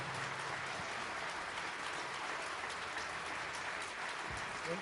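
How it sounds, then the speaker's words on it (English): Audience applause at a breakfast fundraiser event, a continuous patter of many hands clapping at moderate distance, holding steady for several seconds. "Let's have a big round of applause."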